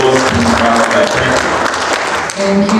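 Loud, steady applause fills a conference hall from a large audience, continuous dense clapping that holds nearly unbroken throughout.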